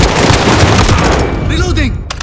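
Dense gunfire in the Call of Duty: Modern Warfare video game, a loud continuous wash of shots and blasts lasting about two seconds, with speech mixed in over the top toward the end.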